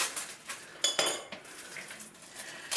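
Rice is tipped into a bowl of cabbage roll filling, with a short rattling pour and light clinks of a utensil against the bowl, fairly quiet and close.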